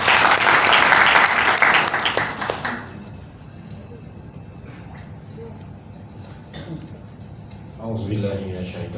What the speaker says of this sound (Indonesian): Mohon aplaus Bapak Ibu.